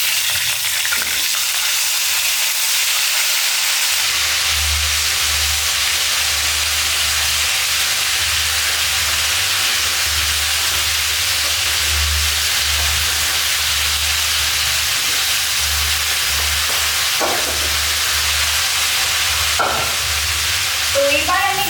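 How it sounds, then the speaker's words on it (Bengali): Cauliflower and potato pieces fry in hot oil for a rohu fish curry, giving a steady, loud sizzle and hiss that runs unbroken throughout. A low hum sits underneath, with occasional soft clinks of stirring. "ব্যাস, এবার ফুলকপি আর আলুটা ফ্রাই করে দেব এই তেলের মধ্যেই।"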